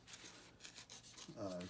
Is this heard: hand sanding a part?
yes